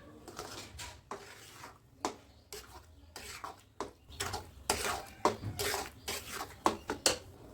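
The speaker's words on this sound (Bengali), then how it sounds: "এবার সব কিছু খুব ভালোভাবে নাড়াচাড়া করে মিশিয়ে নেব।" Carrot, sugar and milk mixture stirred in a pan for carrot barfi, with repeated scraping and clinking strokes of a spoon against the pan in an uneven rhythm, close and moderately loud.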